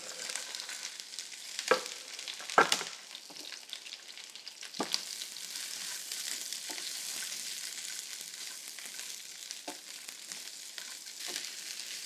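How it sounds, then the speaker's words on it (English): Vegetables for plant-based teriyaki noodles stir-fry in a hot pan of sesame oil, giving a steady close sizzle broken by scattered clatters and scrapes as they are tossed. "the veg are going to go in for a very quick stir fry"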